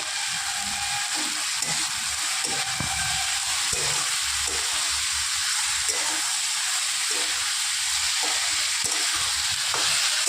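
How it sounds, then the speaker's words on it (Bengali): Chopped vegetables for a spinach curry fry in a hot pan after salt is added, giving a steady, close sizzle with light stirring scrapes throughout, with no voices. "এবার সবজিগুলো আরেকটু ভাজা ভাজা করে নেবে।"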